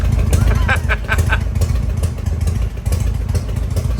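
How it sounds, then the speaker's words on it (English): A stock Harley-Davidson Shovelhead engine idles close by with a loud, uneven loping rumble and mechanical clatter, running steadily throughout. "this is what a shovelhead sounds like"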